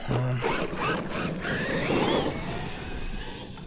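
A Traxxas Wide Maxx RC truck drives steadily, its motor whine and tyre noise on loose ground running continuously and close for the whole stretch without talk.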